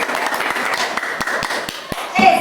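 A small classroom group claps briefly, a quick run of close, sharp hand claps with uneven rhythm, ending with a short voice over the last moments.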